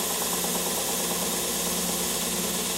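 A machine sander or bandsaw runs steadily on a wood piece in a workshop, a continuous broadband whirring hum that stays loud and even throughout with no talking.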